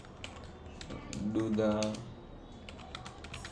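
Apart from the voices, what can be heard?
typing on a computer keyboard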